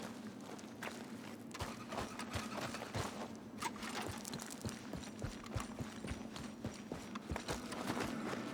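A horse in Red Dead Redemption 2 walks with steady clip-clop hooves, a continuous even series of sharp knocks over a low ambient hum.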